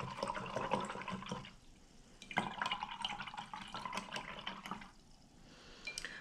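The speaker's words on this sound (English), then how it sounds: "I'm going to rinse my brush off." A paintbrush rinsed in water while painting a wooden ornament, with soft continuous splashing and swishing, quiet and close, with a few small drips and clinks.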